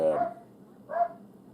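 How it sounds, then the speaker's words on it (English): Two short, muffled barks from a dog some distance away, spaced about a second apart. "The dogs are barking"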